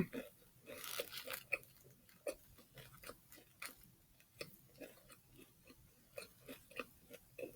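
Close, wet chewing of a Popeyes spicy chicken sandwich, with steady rhythmic crunches and smacks repeating through the whole stretch, no talking.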